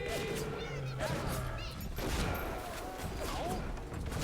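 Exploding buckshot gunfire in the Bioshock video game, loud dense bursts and crashes in rapid succession, mixed with game effects and some speech.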